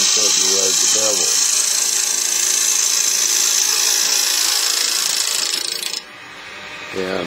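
A bowl gouge cuts a log spinning on a wood lathe, giving a steady, loud hissing scrape that runs nearly unbroken, then drops off sharply near the end. A voice talks over the cutting at the start and again at the close.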